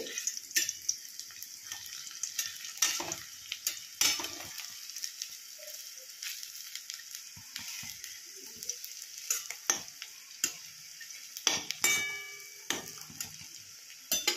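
Cabbage pakoras fry in oil with a bright crackling sizzle and bursts of spattering, joined by intermittent clicks and scrapes from turning them, close and with no speech.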